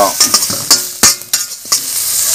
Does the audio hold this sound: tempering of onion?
yes